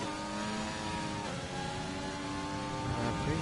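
A Formula-style race car engine screams and climbs through upshifts at Abu Dhabi in a racing video game, steady and close, with brief pitch drops at each gear change.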